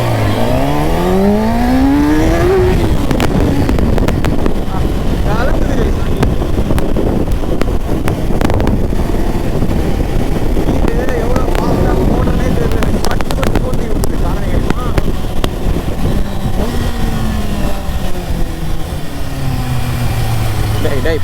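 A Kawasaki ZX6R motorcycle revs and pulls hard along the road, its engine note climbing in pitch through the gears, loud and close beneath constant wind buffeting, with a rider's voice briefly over it.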